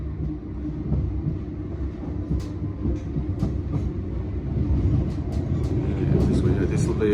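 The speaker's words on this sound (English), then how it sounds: "there's a Trans-Pennine service approaching the avoiding line" A Trans-Pennine passenger train on the Edinburgh to Manchester Airport service rumbles steadily along the avoiding line near Bolton, its low drone growing slightly louder as it nears, with faint clicks and voices in the background.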